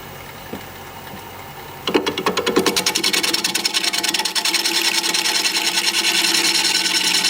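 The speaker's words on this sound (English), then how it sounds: "Going to sharpen up." A wood turning tool sharpened on a grinder, a rough grinding buzz that starts about two seconds in and stays steady and close with fast repeated pulses, loud, no talk.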